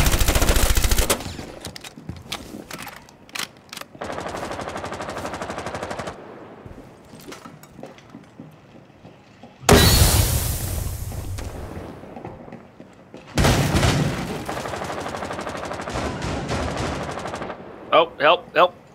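Rapid automatic gunfire and sharp shots from Rainbow Six Siege, played on the Outback map, come in dense bursts that stop and restart through the stretch, with loud volleys near the start, middle and end and a few brief voices in between.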